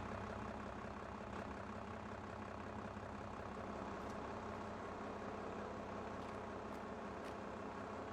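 A base-game tractor in a Farming Simulator game runs with a steady, low, throaty engine drone, close and constant, occasionally topped by faint brief clicks or clanks.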